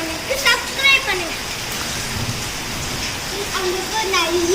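Steady rain falls during the rainy season, a continuous hiss with birds chirping faintly over it near the start and end.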